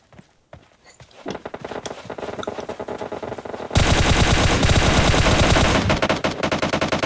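Gunfire in a squad-based shooter video game: scattered shots and footsteps at first, then sustained automatic fire that grows much louder and denser halfway through, rattling on in rapid bursts with no talk.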